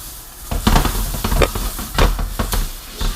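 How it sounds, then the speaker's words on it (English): Vegetables for lo mein sizzle and hiss loudly as they are stir-fried in a hot pan, with bursts of stirring and scraping as they are tossed. "I can hear it sizzling."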